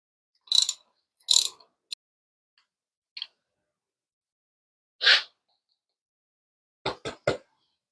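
A socket wrench on a 10 mm nut under the clutch lever of a 2007 Victory Vegas motorcycle gives short bursts of metallic ratchet clicks, several separate spurts with quiet gaps, ending in three quick clicks.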